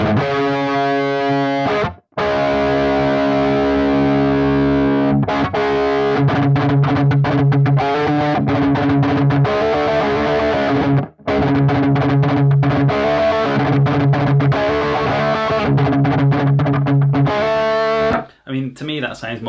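Heavily distorted electric guitar played through a Marshall JM45 amp head at high gain for a thrash metal tone: loud, saturated chugging riffs and sustained chords in bursts, with brief gaps between phrases.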